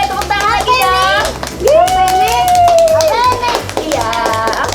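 Children at a storytelling session clap their hands in a rhythmic pattern, with steady claps running under excited kids' voices and sung, drawn-out cheering throughout.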